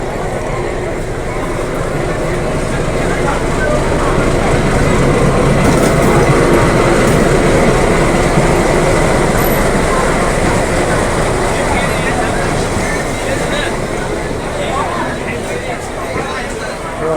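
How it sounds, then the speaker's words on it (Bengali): The Himgiri Express pulls into a station platform with a steady rumble and clickety-clack of wheels that swells in the middle and eases off, a long continuous train passage heard up close with faint voices around. "এই হিমগিরি এক্সপ্রেস এখন ঢুকছে।"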